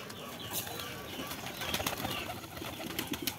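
Domestic pigeons fly in to a rooftop when called, with a fluttering rush of many wings and soft cooing spread through a busy, rustling outdoor scene.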